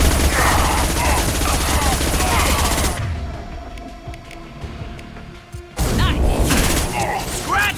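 Heavy gunfire from Mass Effect 2, including a high-impact shot, bursts loudly with dense clattering and mechanical sounds. It drops out for a few seconds and then returns just as loud.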